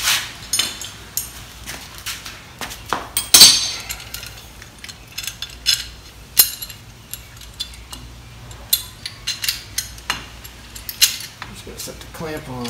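Metal C-clamp being set on a Chevy Silverado or GMC Sierra front brake caliper and turned to press the pistons back in, heard as scattered close metallic clinks and taps over a low hum, with brief talk.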